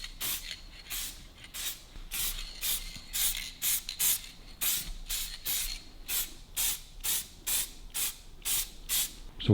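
Spray gun laying paint onto a Harley Davidson WLA motorcycle part, a steady run of short hissing bursts in a regular rhythm, close and fairly loud, with no talking.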